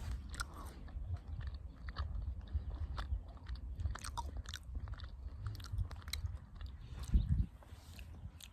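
Someone chews a Slim Jim meat snack up close on a long-distance Pacific Crest Trail hike. The chewing is soft and continuous with small wet bites, and a louder crunching chomp comes near the end.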